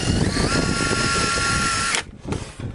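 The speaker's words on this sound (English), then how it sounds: "Then I grab my drill and my screw" A power drill driving a screw into a gate whines steadily for about two seconds up close, then cuts off abruptly, leaving faint clicks and handling noise.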